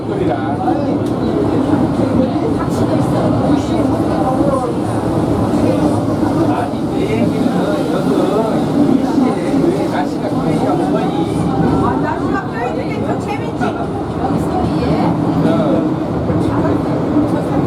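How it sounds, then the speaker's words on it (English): A Hong Kong Peak Tram climbing uphill toward Victoria Peak gives a steady, continuous rumble of rail running and car noise from the front seats, with passengers talking throughout. "Hong Kong Peak Tram."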